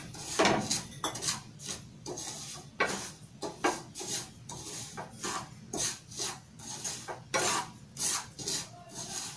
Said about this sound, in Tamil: ரவையை நல்லா பொன் நிறமாக வறுத்துக்கணும்.